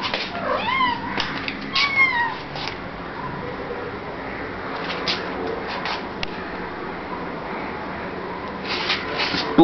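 A hungry female cat meows repeatedly, several rising and falling calls near the start and more cries later, close and clear over quiet room noise.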